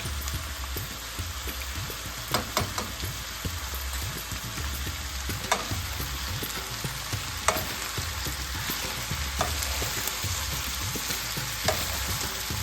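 Ginger paste and turmeric are stirred into a cauliflower and potato curry in a pan, with a steady frying sizzle underneath and occasional soft knocks of the spoon against the pan.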